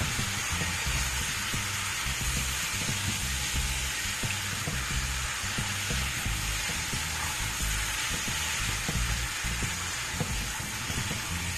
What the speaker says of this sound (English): You're gonna start to stir fry your shrimp.